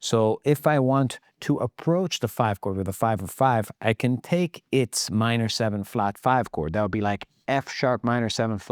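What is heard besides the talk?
None of the usual background noises is heard.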